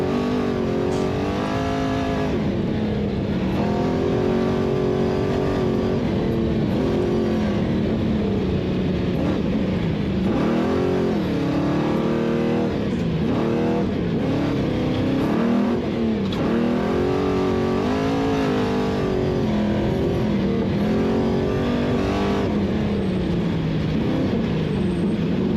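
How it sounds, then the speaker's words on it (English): Engine of an Unlimited off-road race truck at the NORRA Baja race, a loud, continuous rough roar with wavering revs held steadily for the full stretch, heard alone without talk. "versus the sound of Mark's Post Unlimited truck."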